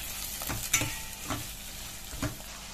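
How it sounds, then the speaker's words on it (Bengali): Green chilies sizzle in hot oil in a pan while a spoon stirs them, producing a constant crackling hiss broken by three or four soft scraping strokes. "নেড়ে নিব"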